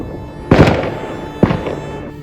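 New Year fireworks burst in two sharp, loud bangs about a second apart, each followed by a crackling, fading rumble against a low background hum.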